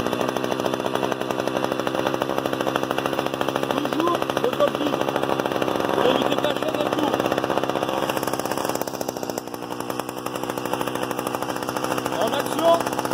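A Stihl chainsaw starts from its pull starter and runs steadily, a loud continuous two-stroke drone that holds for the whole stretch with little pause.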